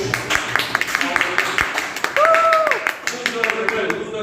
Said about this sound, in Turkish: Kişilere bir alkış.